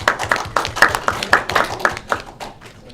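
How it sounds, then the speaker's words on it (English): Small audience at a Toastmasters meeting clapping, a modest round of fairly distinct, rhythmic individual claps close by that thins out toward the end. "can we welcome Fiona with a big round of applause?"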